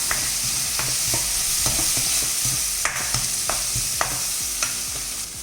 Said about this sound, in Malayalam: ഇത്രയും ഇട്ട് നമുക്ക് നന്നായിട്ടൊന്ന് മിക്സ് ചെയ്ത് കൊടുക്കാം.